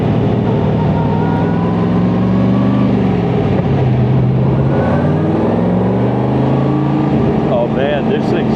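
A Beck Lister Corvette lightweight, breaking in a new motor, drones loudly and steadily from close range as the engine rumbles and the pitch rises and falls, with a brief higher whine near the end.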